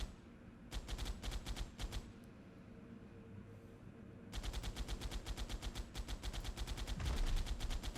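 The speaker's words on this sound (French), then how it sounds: "Je vais essayer de le prendre à la tourelle celui-là." Automatic turret fire in the video game ARK, a rapid stream of gunshots in two long bursts separated by a quieter pause, loud and steady with no talk over it.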